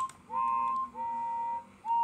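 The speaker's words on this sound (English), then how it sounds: "They whistled and tooted in excitement." Steam engines in a children's railway story whistle and toot, giving three fairly faint, steady whistle blasts in a row with short gaps between them.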